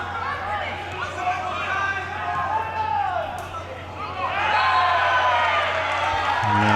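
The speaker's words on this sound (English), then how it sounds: "A slight bit of frustration from the crowd and some of the members on the Chadwell Heath bench" A crowd at an amateur football cup final reacts with groans and jeers of frustration at a very late challenge. The murmur is steady and mid-distance, swells toward the end, and a commentator talks over it.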